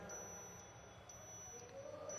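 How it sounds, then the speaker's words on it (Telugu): A Bajaj RE E-TEC 9.0 electric auto-rickshaw sounds its brake warning in drive mode when the brake is not applied: faint, evenly spaced short beeps about twice a second over a low, steady hum. "కంటిన్యూస్గా మనకి బీప్ సౌండ్ అయితే వస్తూ ఉంటుంది అనమాట కొంతసేపు అయిన తర్వాత"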